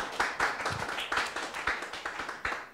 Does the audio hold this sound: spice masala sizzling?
no